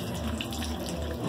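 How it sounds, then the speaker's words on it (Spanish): Water poured and splashing during washing outdoors, a short steady running-water rush close to the microphone, with no talk. "Échale más agua, Gary"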